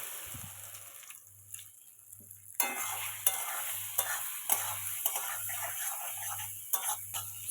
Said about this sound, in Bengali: বাকি তেলের মধ্যে সয়াবিনগুলোকে দিয়ে ভেজে নেব।